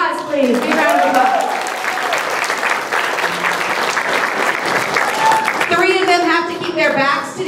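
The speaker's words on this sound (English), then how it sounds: "Can we have a big round of applause, please? Big round of applause." Audience applause at a school arts night fills the hall steadily for several seconds, with children's voices and chatter rising above the clapping at the start and again near the end.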